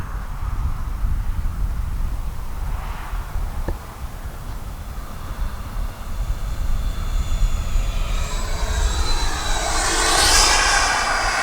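A Freewing F-86 RC model jet, repaired after a crash, roars past at full speed above a runway, its loud steady jet whine building to a bright, rising peak as it sweeps close by.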